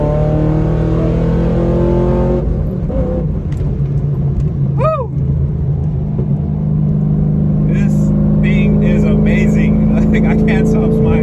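A 5th-generation Camaro with a cam swap pulls hard in third gear on a dyno, its engine drone climbing steadily near 4,000 RPM, loud and continuous, with a brief whine partway and excited talk over the roar.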